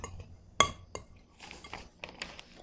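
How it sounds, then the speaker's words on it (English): Okara dumpling filling with celery, chives, green onion and carrot stirred in a bowl, a sharp clink of utensil on the dish followed by softer scraping and tapping strokes, close and intermittent, no talk. "And we're going to mix this quite well."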